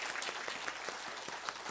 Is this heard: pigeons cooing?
no